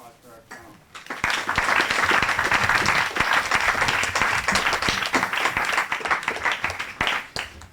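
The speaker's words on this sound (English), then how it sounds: "join me in giving a great round of applause for our panel" At the PennApps Health Symposium 2015, the audience claps loudly for the panel. A brief murmur comes first, then many hands clap in a sustained, even wash that carries on for about six seconds before thinning.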